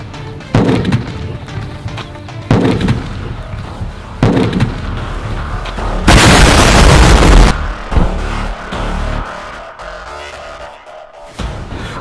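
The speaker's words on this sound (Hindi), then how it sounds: "धमाके की आवाज कितनी ज्यादा तेज आई है।" A loud, close blast as a large gas-filled balloon is set alight and explodes: a sharp broadband burst, preceded by several dull thumps and followed by lingering rumbling and crackling; no talking.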